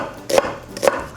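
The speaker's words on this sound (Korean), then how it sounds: "자, 이제는 우리 양파 2개 손질해줬죠. 1개를 완전히 다져줄 거예요." A knife chops an onion on a board in two distinct, fairly loud thuds about half a second apart.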